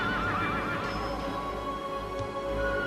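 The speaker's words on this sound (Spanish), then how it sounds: "escuchó el relincho de su viejo amigo" A horse neighs loudly and close by, a shaky rising-and-falling whinny in the first second, with steady low background rumble and faint hoof clatter continuing afterward.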